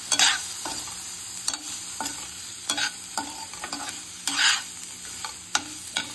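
Fried rice with vegetables and soy sauce is stir-fried in a pan: a steady sizzle punctuated by repeated sharp scrapes and clacks of a spatula, close-up with no voices.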